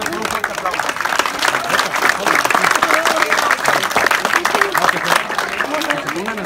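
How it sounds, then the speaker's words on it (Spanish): Enthusiastic applause at a children's uniform handover event, dense clapping mixed with crowd voices and cheering throughout. "vamos a despedirnos con un fuerte aplauso"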